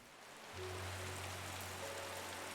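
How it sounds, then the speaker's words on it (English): Rain falls in the cozy shop setting of the video game Strange Horticulture, a soft, steady wash that swells in after a brief quiet start, with a low hum beneath. "First it's raining."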